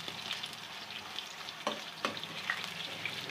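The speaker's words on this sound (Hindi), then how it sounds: "एक कढ़ाही में हमने 1/4 कप जो है वो घी लिया है, लहसुन अदरक का पेस्ट 1 खाने का चम्मच शामिल करते हैं, और इसको करते हैं हल्का सा फ्राई" Garlic-ginger paste sizzles steadily in ghee in a kadhai, a close, continuous crackle with a few sharper pops and light stirring scrapes, no talking.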